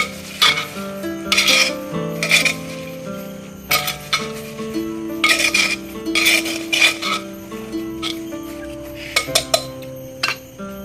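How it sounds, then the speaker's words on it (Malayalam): Mango pickle being mixed with curry leaves and asafoetida powder in a metal vessel, with repeated clinking and scraping strokes of a spoon against the pot, close and fairly loud, with background music tones running underneath. "കുറച്ച് കറിവേപ്പിലയും കൂടെ ചേർത്ത് നന്നായിട്ട് നമുക്ക് യോജിപ്പിച്ച് വയ്ക്കാം"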